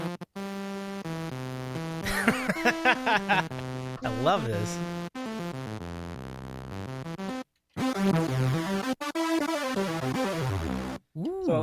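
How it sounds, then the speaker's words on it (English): A buzzy sawtooth wave synth plays bright, harmonically rich tones, with sliding pitch sweeps and stepped notes separated by short gaps, while someone speaks briefly over it. "A sawtooth wave looks just like a sawtooth, except it goes straight down, and that has a much buzzier sound."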